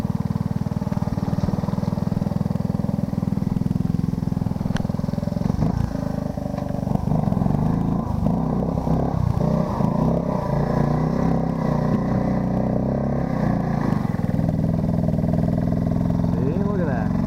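Motorcycle engine revving hard and shifting through gears, a loud steady roar with changing pitch as it accelerates, heard at a distance while people talk over it throughout.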